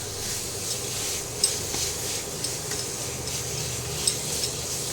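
Jaggery batasha being stirred into a sweet fruit mixture in a pan over lowered heat, a continuous soft sizzle with light scraping strokes and a couple of small metallic taps, close and steady.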